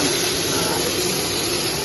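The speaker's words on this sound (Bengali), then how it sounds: "এদিকে হচ্ছে মাছ ভাজা" Fish frying in a pan in a home kitchen, a continuous loud sizzle and hiss that stays steady and close for the whole moment.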